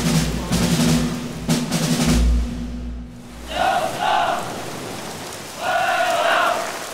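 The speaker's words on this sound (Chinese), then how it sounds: "虽然是滂沱大雨，但还好没有打雷。" A heavy downpour pours steadily onto Taoziyuan beach in a loud, unbroken hiss, while a group of voices shouts in unison in short bursts over it.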